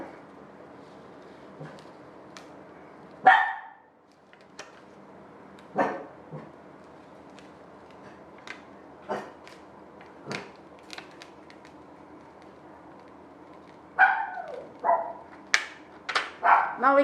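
A dog barks in scattered single and short clustered barks, moderately close, with a quick burst of several barks near the end over a quiet indoor background.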